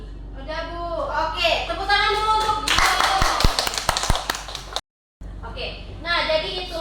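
Scattered clapping in a classroom during a microteaching lesson, a handful of sharp, separate hand claps over a couple of seconds, with a teacher and students talking before and after and a brief dropout to silence.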